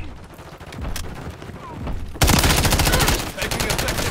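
Rapid bursts of automatic gunfire in Call of Duty Modern Warfare III, loud and close, sparse shots first and then a sudden dense stream of fire.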